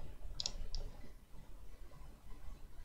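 A computer mouse gives two quick clicks close together, then a third a moment later, crisp and near against quiet room hiss.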